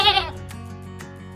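A goat gives one short, nasal bleat at the start, loud and close, followed by quieter background noise.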